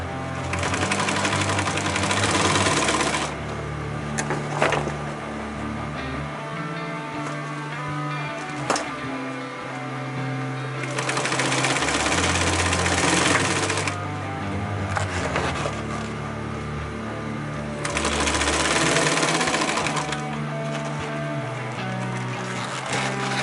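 Sewing machine stitching the bottom part of a 50-litre roll-top backpack, its steady whirring running continuously in bursts that rise and ease as the fabric is fed, close and fairly loud with no talk.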